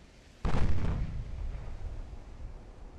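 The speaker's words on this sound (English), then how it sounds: "he just got hit by another torpedo. Ammo detonation over there" A sudden heavy explosion from an ammunition detonation aboard a warship in Ultimate Admiral: Dreadnoughts, one loud booming blast that rolls into a long rumbling decay.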